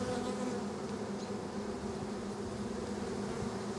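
Honeybees buzzing inside a heavy hive whose frames are packed with honey: a dense, continuous hum, close and steady throughout, with no voices.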